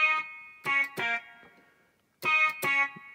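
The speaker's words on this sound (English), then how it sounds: "Yeah, distortion hard and soft." A Yamaha DJX keyboard plays short buzzy chords with a distortion DSP effect, two pairs of harsh, harmonically rich stabs separated by a brief silence.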